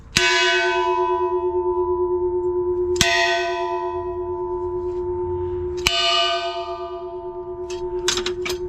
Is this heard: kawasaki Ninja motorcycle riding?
no